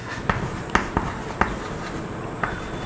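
Chalk or marker writing on a classroom board during an error-analysis lesson, heard as a few sharp taps and short strokes spaced irregularly over a steady room hiss, with no talk.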